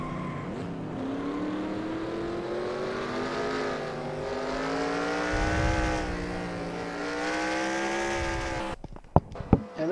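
A NASCAR Racing 2003 stock car spins out at Watkins Glen, its engine droning with shifting pitch as the tone sweeps and wavers, then a few sharp knocks near the end.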